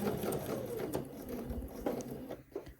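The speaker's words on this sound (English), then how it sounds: "We're going to sew down to our pin here." A sewing machine stitches a skirt seam in fabric, a quick steady mechanical whirr running throughout at low volume.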